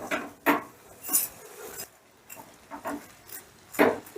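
Shredded cabbage is tossed with salt in a pan, with a spoon scraping and knocking against the metal in irregular bursts and quiet gaps between them, close by and with no talking.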